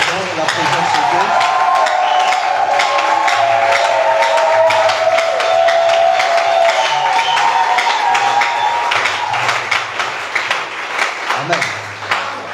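A church congregation cheers and acclaims God in praise, a loud, sustained crowd roar with claps and raised voices that swells and holds for several seconds before easing slightly.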